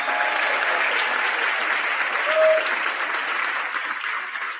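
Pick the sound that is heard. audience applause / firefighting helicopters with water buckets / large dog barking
audience applause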